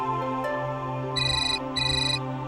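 A phone ringtone plays loudly and close, a steady electronic melody with two bright repeated bursts in its second half, with no voices over it.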